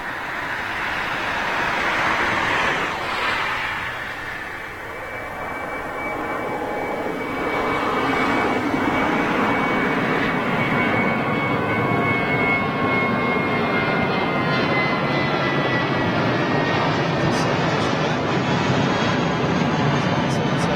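At London Gatwick, an airliner departs with a building jet roar and a sustained high engine whine that sweeps and rises, growing louder and steadier through the second half, while voices talk at times.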